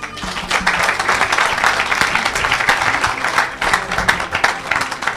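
A church congregation claps and cheers for Jesus during a service, a dense, steady wash of applause filling the space without pause.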